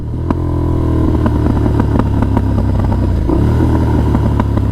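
A KTM Super Adventure S motorcycle rides along with a steady, loud engine drone, the note shifting briefly as it downshifts smoothly, with light clatter over the continuous rumble.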